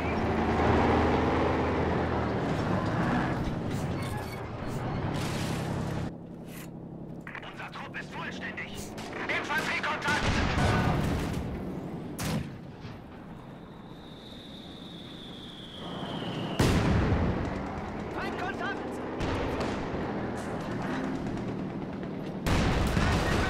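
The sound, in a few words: anti-tank gun firing and gunfire in a strategy video game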